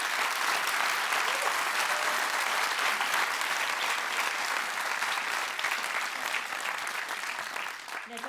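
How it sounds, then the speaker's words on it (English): A final round of applause for presenters at a seminar, sustained dense clapping from a sizeable audience that holds steady, then tapers slightly near the end. "can we just have a final round of applause"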